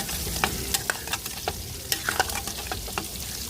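Chicken pieces are stirred into a sizzling cashew chicken curry gravy, with a steady close fry hiss and regular spoon scrapes and taps against the pan, and no talk.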